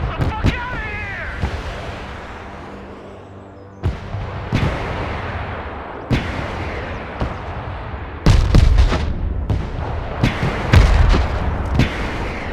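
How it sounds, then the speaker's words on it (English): Heavy artillery fire, including PZH-2000 howitzers, in the military strategy video game Broken Arrow: a series of loud booming blasts, some doubled, spaced every few seconds over a rumbling battlefield bed, growing denser and louder toward the end. "Sir, the Lithuanian artillery responded."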